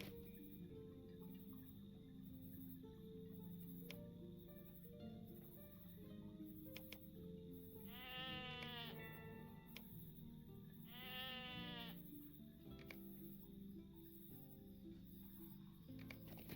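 Sheep bleating in the Lord of the Rings Online game: two wavering bleats, a few seconds apart, rise over a quiet, steady ambient game backdrop.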